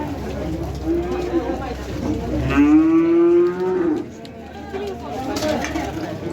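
A cow with her young bull calf moos at a cattle market in Shofirkon, a long rising low call over crowd chatter and market bustle, with people talking nearby.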